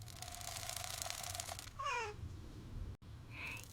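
Domestic cat meowing close by, one rising and falling meow cutting through steady background hum, followed after a brief dropout by a shorter, fainter second call, with no talking.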